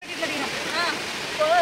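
A stream in hilly country at Chaparai rushes and splashes in a steady, close wash of flowing water, with voices talking over it.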